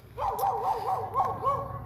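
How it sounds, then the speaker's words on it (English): Dogs barking and yipping in the distance, a continuous run of overlapping barks over quiet background noise. "We do have some dogs barking in the background"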